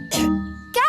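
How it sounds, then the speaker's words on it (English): A cartoon character in Ben and Holly's Little Kingdom coughs twice in short, close bursts separated by a brief pause, with a thin ringing tone held underneath. "Gaston's coughing."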